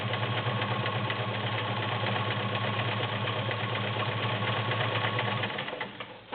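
Kenmore 1802 sewing machine with a size 16 needle zigzag stitching through six layers of denim, a steady close mechanical hum with fine rapid stitching rhythm running continuously, easing off at the very end.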